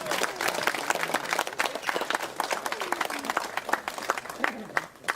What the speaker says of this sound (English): deserves such a good round of applause